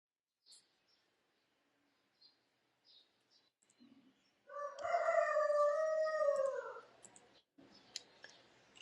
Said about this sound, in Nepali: यहाँ मेरो यहाँ छिमेकमा नि कुखुरा कराएको